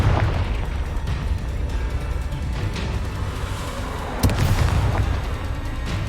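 The Confringo spell explodes in the Hogwarts Legacy video game. A dense, rumbling blast wash fills the clip, and a sharp burst hits near the four-second mark.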